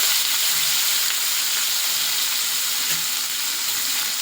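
Onion frying in a pan with asafoetida and curry leaves for a simple sambar, a steady close hiss of sizzling oil with faint stirring underneath.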